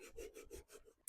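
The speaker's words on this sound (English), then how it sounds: "I'm going to take some steel wool. That's just going to help even everything out that I just sanded." Steel wool rubs over freshly sanded furniture in five or six brisk, even back-and-forth strokes, close and soft, ending in a sudden loud burst.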